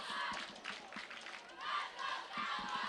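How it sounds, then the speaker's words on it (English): Home crowd at a high school boys soccer final cheering on the Selma Bears, a dense roar of many voices swelling and dipping throughout, fairly loud and continuous. "this Selma crowd trying to get their Bears pumped up"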